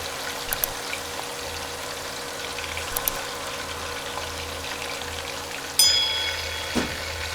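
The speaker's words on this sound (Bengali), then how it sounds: "এক পাশ কিছুক্ষণ ভাজা হলে এরপর উল্টে অন্য পাশ ভাজব" Broiler chicken pieces fry in hot oil in a pan with a steady, moderate sizzle, broken near the end by a sharp clatter of a utensil.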